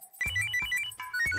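An indoor telephone rings in a home, with repeated bursts of electronic ringtone chirps separated by short gaps, fairly close and alone.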